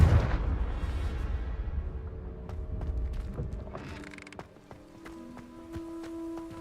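A Confringo fire spell in Hogwarts Legacy bursts with a loud crackling blast at the start, followed by a rumbling, creaking fade and scattered sharp tonal hits as the game effects settle.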